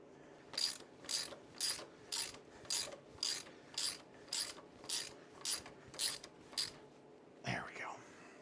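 A hand ratchet tightens the bolts on a motorcycle primary chain tensioner, giving about a dozen evenly spaced clicking strokes at a steady rhythm, close and fairly quiet, followed by a short clunk at the end.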